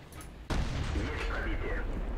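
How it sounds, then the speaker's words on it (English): A tank destroyer gun firing in the video game World of Tanks, a single sudden loud blast followed by a rumbling decay, with faint voices underneath. "That gun explosion sounds horrendously loud"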